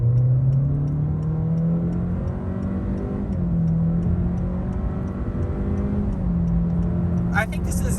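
A Honda Accord Sport accelerates hard from a stop, its engine note climbing steadily and dropping briefly at gear shifts, heard from inside the cabin with a steady road roar and a short rattle near the end.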